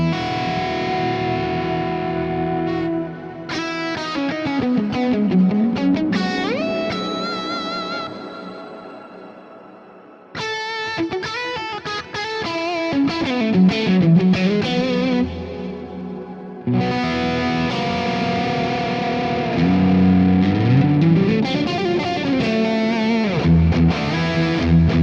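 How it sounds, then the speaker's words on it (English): Distorted electric guitar played through a Quad Cortex long reverb, three phrases of sliding, bending notes with chorus-like shimmer, each ending in a lingering wash before the next begins. "A lot more prominent with the longer reverb."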